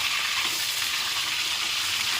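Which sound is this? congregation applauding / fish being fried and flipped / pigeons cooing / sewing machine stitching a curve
fish being fried and flipped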